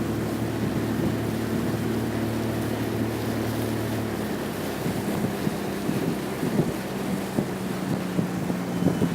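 A Quintrex Explorer Trophy 420 boat underway on a Yamaha F40HP four-stroke outboard, a steady low engine drone under wind buffeting and water rush, no talking.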